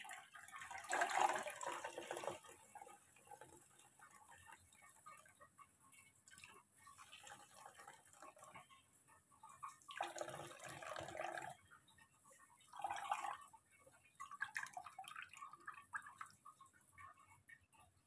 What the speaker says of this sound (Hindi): ऐसे इसको उठाऊंगी और ये इसको दबा दबा के मैं निकाल लूंगी